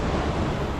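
Ocean surf rolls steadily along Funchal's seafront on a rough day, a continuous broadband wash of breaking waves with wind buffeting the microphone throughout.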